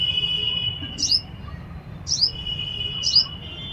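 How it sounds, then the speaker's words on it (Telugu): In a home garden at evening, a bird repeats three evenly spaced, bright chirps, fairly close, over a constant thin high-pitched tone and soft background murmur. "పిట్టలు"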